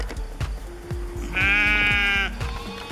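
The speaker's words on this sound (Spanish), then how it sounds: "Las ovejas de acá" Sheep bleating near Gramado in Rio Grande do Sul, Brazil, with a long wavering bleat in the middle over farmyard background noise and no talk.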